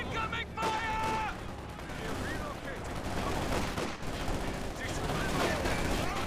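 Battlefield gunfire from Company of Heroes 2, with dense bursts of shots and rattling automatic fire running throughout, loud and continuous, while voices and shouted unit callouts speak over the combat din.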